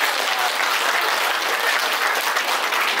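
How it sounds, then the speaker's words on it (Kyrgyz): Steady, loud applause from an audience at a gathering of Kyrgyz businesswomen and confectioners in Moscow, continuous clapping filling the whole moment with no break. "кол чабуулар болсун"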